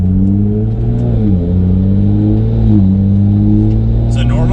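A Toyota Supra A90 with an added downpipe and an AWE exhaust accelerates in normal driving, giving a smooth, deep engine drone that rises in pitch and dips at shifts, loud and close and fairly stock-sounding.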